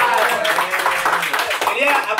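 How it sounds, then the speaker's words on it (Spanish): An audience at a comedy show breaks into dense, continuous clapping and cheering, loud and filling the room, with voices mixed in throughout. "Ahora, Luestre, Un aplauso, por favor."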